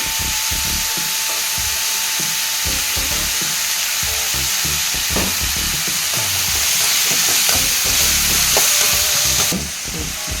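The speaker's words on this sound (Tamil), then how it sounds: "இப்போ இதில் வந்து நான் இஞ்சி பூண்டு பேஸ்ட்டு போடுறேங்க" Ginger garlic paste fries loudly in hot oil for a mutton kudal fry, a dense continuous sizzle broken by repeated stirring scrapes and knocks of a spoon against the pan.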